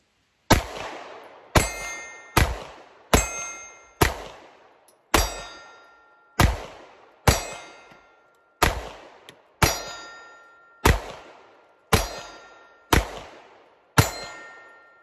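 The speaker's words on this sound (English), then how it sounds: "So incredible, I'm going to shoot it some more." Pistol shots from a Wilson Combat EDC X9 strike steel targets on an outdoor range, giving about fifteen sharp cracks, each followed by a bright ringing clang that decays, fired in a steady, fairly quick rhythm with no talk.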